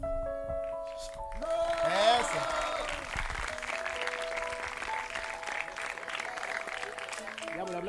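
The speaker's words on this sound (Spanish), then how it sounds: "Un aplauso." Audience applause with scattered cheers rises and then holds steady at a late-night show at a Christian youth camp, mixed with music tones and a few voices.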